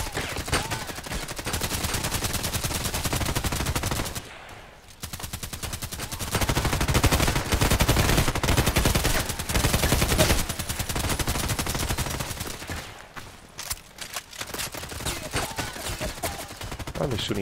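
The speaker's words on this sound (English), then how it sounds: "They're shooting at me already." Automatic gunfire in the shooter game Contract Wars hammers in long, loud, rapid bursts, broken by a couple of short pauses, dominating throughout.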